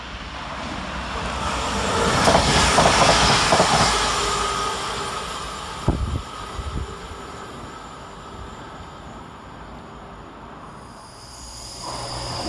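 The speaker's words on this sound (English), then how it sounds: "Up next for Transport for Wales is 197021, working 1 Victor 38 from Manchester Piccadilly to Carmarthen." A Transport for Wales train, unit 197021, moves through a railway station, its rumble swelling and fading with a few sharp clanks along the track.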